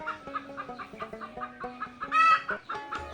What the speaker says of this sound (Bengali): এই যে মুরগির চিল্লানো শোনা যেতেছে